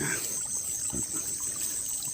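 Steady trickle of water flowing, a continuous soft watery hiss with faint low bumps, heard alone at a moderate distance.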